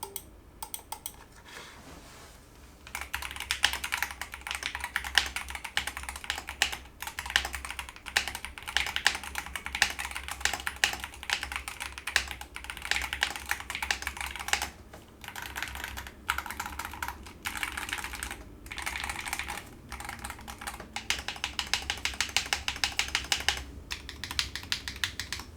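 Steady typing on an IQUNIX EZ63 gaming keyboard, with rapid, close, crisp key clacks running continuously, pausing briefly now and then, and no voices.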